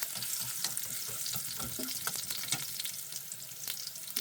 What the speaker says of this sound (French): J'ai mis de l'ail à frire.